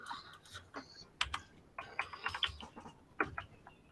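Irregular bursts of clicking keystrokes on a computer keyboard, close and fairly crisp, with short pauses between clusters of presses.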